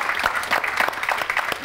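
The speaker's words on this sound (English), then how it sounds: "So just want a little round of applause for bringing these people from all over the world." A conference panel audience claps in a short burst, dense overlapping applause at moderate loudness lasting under two seconds with no speech over it.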